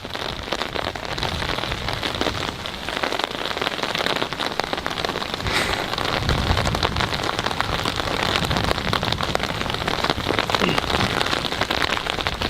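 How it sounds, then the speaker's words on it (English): Steady rain patters on an umbrella outdoors, a dense, close, continuous hiss of drops with no talking. "I was just thinking how the sound of the rain falling on this umbrella is gonna get recorded"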